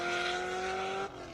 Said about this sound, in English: Car sure sounds good.